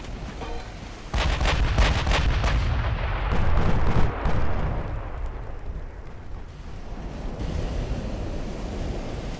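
Warship secondary guns fire in the naval battle game Ultimate Admiral: Dreadnoughts, a quick burst of several booming shots early on, then a rumbling wash of sea and wind with further dull thuds.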